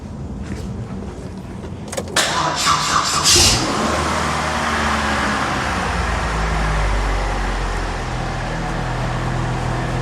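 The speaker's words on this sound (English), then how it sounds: "Let me see if the vehicle will actually start." A car with a repeatedly dead battery gets a few clicks and a brief cranking burst, then the engine catches and settles into a steady, loud idle hum that continues to the end.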